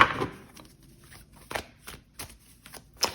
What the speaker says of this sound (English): and then we'll shuffle more on camera